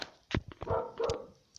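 A dog barks a few times up close, short sharp yelps with a whiny edge mixed in.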